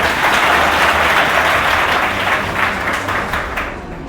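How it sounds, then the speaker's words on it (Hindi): Loud, dense applause from a seminar audience at an intermediate college, clapping for a student, sustained and gradually tapering toward the end. "जोरदार ताली इस लड़के के लिए।"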